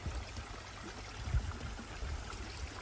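Water pours into a garden pond lined with plastic liner, a soft continuous rushing trickle with low rumbling, steady and close, no voices.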